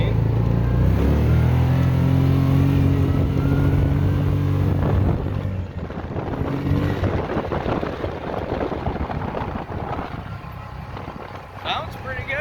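A Yamaha Rhino 660 engine idles loudly and close, then revs up with rising, rough intake and exhaust noise that settles into a steady run.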